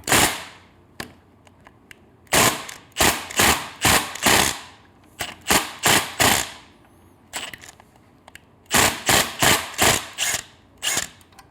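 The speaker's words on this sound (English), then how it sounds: "I'm using an impact." Impact wrench working an 8mm Allen bolt during a Triumph header install, loud close rattling bursts in quick clusters of three or four with brief gaps between.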